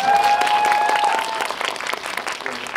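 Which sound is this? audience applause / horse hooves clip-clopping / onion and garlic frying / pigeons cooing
audience applause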